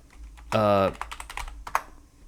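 Rapid clicking of computer keyboard keys, close and fairly soft, after a short voiced sound at the start.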